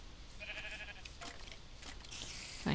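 A sheep bleats in a video game, a few faint wavering cries in quick succession over low background hum, ending with a louder burst of sound.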